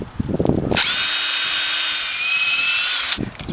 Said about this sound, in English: I'm going to start drilling.